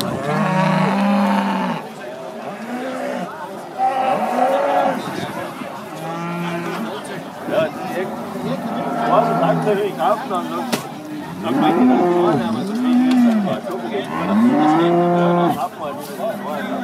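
Cattle at the 2017 Uttendorf Stuhlfelden cattle show, its 120th anniversary event, give repeated loud, close moos, long rising and falling bellows spaced across the stretch, with crowd voices murmuring in the background.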